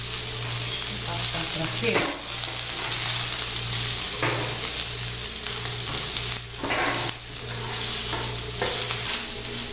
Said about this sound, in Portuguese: Vou dar uma fritadinha aqui.